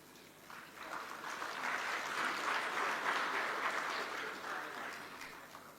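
Applause from an audience at a public ceremony where the President receives dividends from state corporations, a faint, distant wash of many hands swelling and holding steady.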